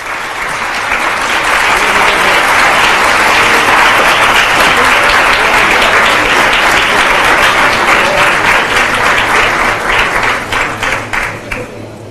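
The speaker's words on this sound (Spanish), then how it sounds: "Recibimos con un fuerte aplauso al expresidente de República Dominicana" A large audience at the CADE 2013 forum applauds loudly to welcome former Dominican Republic president Leonel Fernández, a dense and sustained burst of clapping that stays strong for about ten seconds before thinning out at the end.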